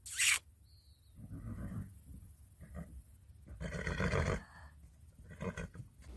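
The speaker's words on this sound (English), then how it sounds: "even our horses greeting us like Lira does here." A horse whinnies loudly and close by, a long wavering neigh with a sharp onset, followed by quieter snorts and breathy sounds.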